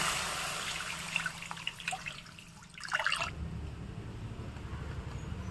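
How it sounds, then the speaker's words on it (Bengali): Water is poured into a pan of sautéed spice paste for a vegetarian spinach curry, a steady trickling splash that swells for a few seconds over a faint background hiss, with no talking. "এবার আমি জল দিয়ে দেবো"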